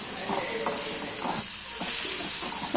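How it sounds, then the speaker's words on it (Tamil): Grated coconut, onions and green chilies sauté in a pan for a spicy ragi puttu, a soft steady hiss of frying with intermittent scraping from stirring, close and without voices. "தேங்காயும் சேர்த்து நம்ம வெங்காயத்தோடு நல்லா வதக்கி விட்டுக்கிறணும்."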